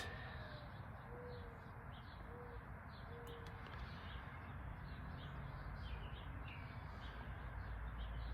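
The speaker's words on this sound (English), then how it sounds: "I definitely hear starlings out there." Starlings call outdoors, faint and distant, as short chirps and whistles over a steady wash of outdoor background noise.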